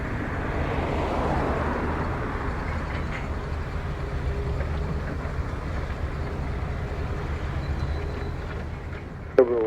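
A Frontier airliner landing on runway 25 at Montego Bay, Jamaica gives a steady broadband jet roar throughout, fairly distant and even, with a brief sharp sound near the end.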